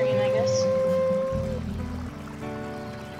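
Flowing creek water in the WolfQuest video game splashes and trickles up close as a wolf wades through, the watery wash shifting in loudness over a few seconds with a steady tonal game hum beneath.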